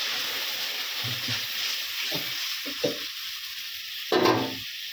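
Katla fish in a mustard and poppy-seed paste sizzles steadily in a pan, with several soft stirring scrapes and a louder burst near the end as a splash of water hits the hot mixture.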